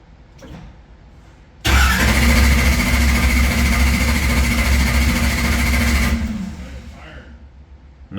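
Race car engine cranked on the starter without firing due to no ignition, a loud, sustained churning drone lasting several seconds before cutting off, with brief talk around it.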